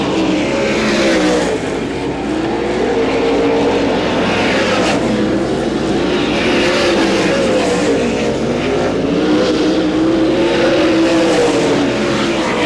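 Sprint cars at Butler Motor Speedway roar continuously in a loud, dense pack, their engine pitch rising and falling in waves as they sweep around the track.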